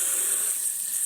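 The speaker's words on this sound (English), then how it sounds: "So we're in essence deep frying these things" Steady, bright sizzling hiss of pork rind crumb coated Atlantic cod deep frying in hot bacon fat, continuous and fairly close, with no voices.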